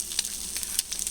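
An egg fries in a cast iron pan, giving a soft, steady sizzle with a few faint crackling pops during a short moment.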